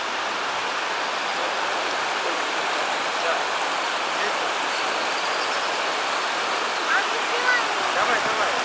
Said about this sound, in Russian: Там, ребята, водопад маленький.